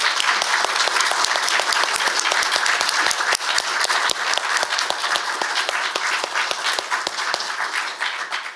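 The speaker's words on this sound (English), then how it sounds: "Would you mind standing up and just taking some applause from this room?" Dense audience applause in a room honouring opera singers at a talk event, a steady, loud wash of many hands clapping with sharp individual claps standing out throughout.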